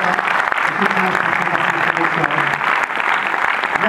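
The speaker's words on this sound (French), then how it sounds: "On peut les applaudir." An audience at a French film premiere screening applauds in a dense, continuous wash of clapping that stays loud and steady throughout, with some voices mixed in beneath.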